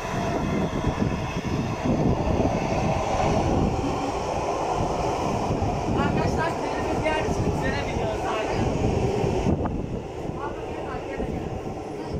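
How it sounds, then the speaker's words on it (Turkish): A train pulling into a station produces a loud, sustained rumble and rolling rail noise, with people talking over it throughout. "Trenimiz geliyor şimdi."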